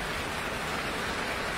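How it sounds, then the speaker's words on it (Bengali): Heavy rain pours in a dense, unbroken hiss that fills the whole brief moment, close and loud, with no voices over it. "বৃষ্টির আওয়াজে কোনো শব্দ শুনতে পাচ্ছি না"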